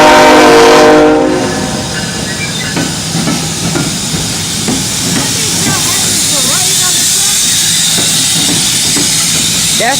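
Union Pacific locomotive 2610 arrives after unhooking cars for a repair, opening with a loud, close horn blast that cuts off, then leaving a rumbling engine and hissing running steadily as people talk nearby.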